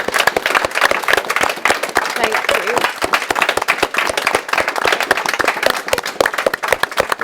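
A conference audience for a finance-edition Black at Work panel event gives the panel a dense, sustained round of applause. Many hands clap steadily throughout while a voice briefly says thanks over it.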